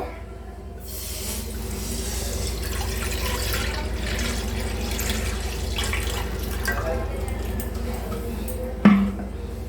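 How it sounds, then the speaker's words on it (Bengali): Water is poured into a pan set on a gas stove, a steady splashing rush for most of the clip, ending with a sharp clunk near the end. "গ্যাসে একটা কড়া বসিয়ে দিয়েছি, এর মধ্যে আমি জল দেবো।"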